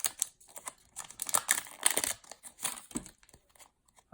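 A Pokémon Shining Legends card pack wrapper is torn open, giving close, bursty crinkling and crackling of foil-like plastic in irregular handling bursts, with no talking.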